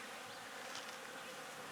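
Honey bees buzz densely and continuously at an open feeder holding pollen and wine corks for landing, a close, thick swarm drone with no voices.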